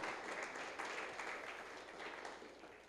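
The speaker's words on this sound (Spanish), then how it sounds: "Dale un aplauso al Señor, que Cristo sea glorificado hoy." A congregation claps steadily for a few seconds during a church service, a dense, even wash of applause filling the room.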